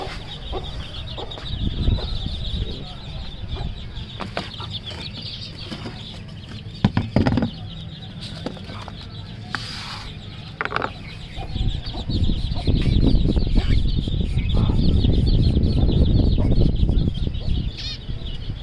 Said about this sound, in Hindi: वो दाना लेने के लिए आवाज़ कर रहे थे